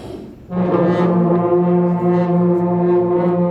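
A single sustained trombone note from a beginner, low and buzzy with a slightly rough, wavering tone, held steadily after a breathy start.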